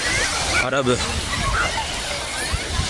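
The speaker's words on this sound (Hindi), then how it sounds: "ये समंदर है" Sea water of the Arabian Sea sloshing at the shore at Mesaieed, Qatar, a continuous close wash of waves with a splash partway through, under someone talking and faint voices nearby.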